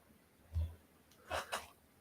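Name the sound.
sneeze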